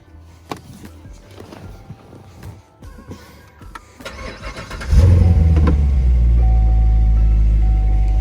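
A C7 Corvette engine cranks and catches after some clattering handling noises, then settles into a loud, steady idle rumble.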